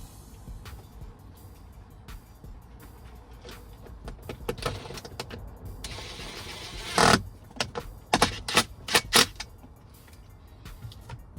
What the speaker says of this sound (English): I need to reinstall the clip and the 7mm screw